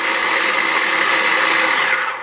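A small electric food chopper whirs steadily as it chops onions and garlic, a loud continuous motor drone close by that winds down at the end.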